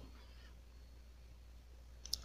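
A single sharp mouse click on a withdraw button, close and brief near the end, after near-silence with faint background hiss.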